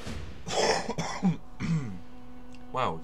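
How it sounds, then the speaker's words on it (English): A person coughs and clears their throat several times in quick, close bursts, with harsh rasping sounds between short gaps. "Coughing."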